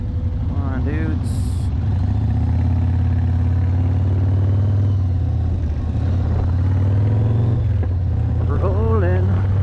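Several motorcycles, one of them an old Harley-Davidson, ride together by a lake, their engines giving a steady loud low rumble with wind noise. Someone talks over the rumble now and then.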